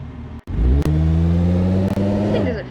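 A rally-derby style car called the Unpunctual in BeamNG.drive revs up loudly after a brief gap, its engine note climbing steadily with a couple of short gear-shift dips before easing off.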